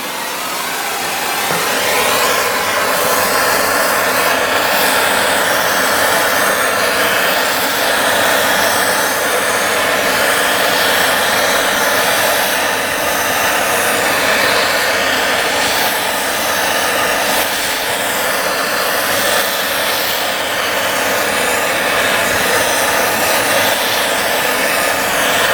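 A hot air tool blows steadily on a two-stroke dirt bike part, a loud, constant whooshing roar that holds unchanged for the whole stretch with no speech.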